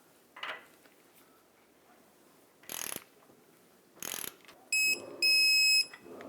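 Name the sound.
ratchet tightening ball joint mounting nut on Honda Accord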